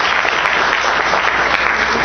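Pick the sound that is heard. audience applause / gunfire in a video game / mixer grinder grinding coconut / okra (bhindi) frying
audience applause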